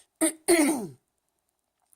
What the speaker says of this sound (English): that and a little bit of a cough